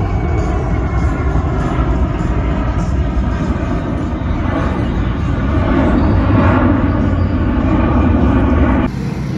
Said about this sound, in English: The airplane is right over there.